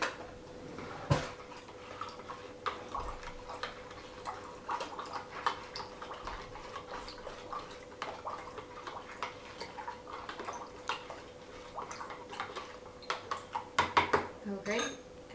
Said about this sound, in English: I'm going to add the 2 teaspoons of salt into my water